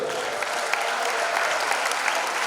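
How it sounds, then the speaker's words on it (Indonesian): At a 70th birthday thanksgiving gathering, a crowd claps in dense, lively applause that stays steady and fairly loud throughout. "tepuk tangan yang meriah dulu."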